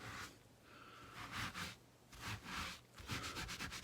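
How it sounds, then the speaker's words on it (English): A rag scrubs a stain on the ceiling of an RV in quick rough back-and-forth bursts, close and fairly quiet, with short pauses between strokes and no voices. "Scrub it in there."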